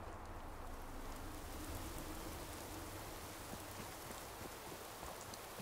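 Steady rain hisses evenly throughout in the video game Fallout 4, a dense wash of falling drops with no voices.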